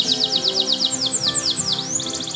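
A trained canary sings a rapid, bright run of chirps and sweeping whistled trills, close and loud, continuous for a couple of seconds with no talk.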